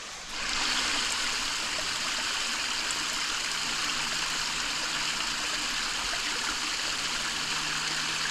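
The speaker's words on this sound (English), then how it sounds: "There's a nice little waterfall." A small waterfall and river on the Foothills Trail rush and splash in a steady, continuous roar close by, with no voices.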